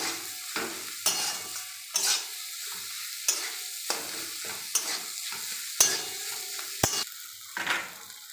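Boiled potatoes stirred and fried in a pan for aloo kachori filling, with repeated scraping strokes of a spatula over a low steady sizzle, close and alone without talk.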